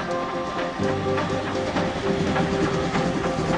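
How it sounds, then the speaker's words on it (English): A steam train rumbles along the rails through the West Midlands with steady rolling noise and faint rhythmic clatter, loud and close, a hiss running underneath. "The train is surging towards Scotland, although in reality, it's steaming through the West Midlands."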